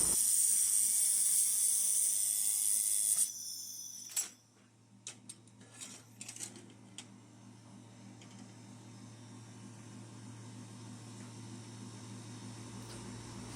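A 3-in-1 laser cutting, welding and cleaning machine runs a laser welding test, with a bright hiss for the first few seconds, then scattered sharp mechanical clicks over a steady low hum.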